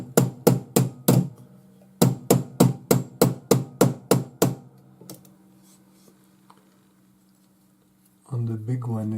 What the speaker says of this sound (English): And I'm also using a Bonnie Doon urethane hammer.